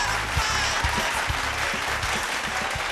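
A live audience at a televised singing contest applauds a departing contestant, a full steady round of clapping with rhythmic low thumps of stage music pulsing underneath.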